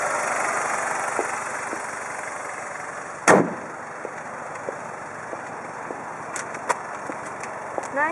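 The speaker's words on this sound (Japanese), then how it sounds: "エンジンは N46D20B クリッター4気筒エンジン150馬力となっております。" A BMW 320i M Sport with an N46D20B 2.0-litre four-cylinder rated at 150 hp idles steadily. One sharp thump sounds partway through, and a few light clicks follow.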